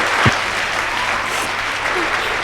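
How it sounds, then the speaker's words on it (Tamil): Audience applause at a Tamil family event, a dense, steady burst of clapping that holds at full strength for the whole stretch with a voice briefly audible underneath. "பாராட்டுதலை இந்த பலத்த கைத்தட்டலோடு நீங்க சொல்வதை போல"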